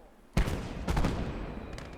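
Heavy mortars fire a round into an enemy camp in the Eastern Front war game Gates of Hell: Ostfront, with a sharp loud blast followed by a second boom and a long rumbling tail, then fainter distant reports.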